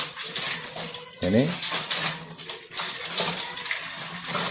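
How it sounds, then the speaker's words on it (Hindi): Hot water is poured from a vessel into an empty bottle. The splashing pour carries a quick rising gurgle as the bottle fills, heard close and fairly loud beside a brief voice. "अब हमें चाहिए कि इस खाली बोतल में गर्म पानी डाल दें।"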